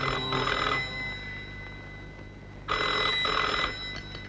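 A telephone rings with two bursts of a bright electronic trill, each lasting under a second and separated by a pause, sounding close and clear with no talking over it.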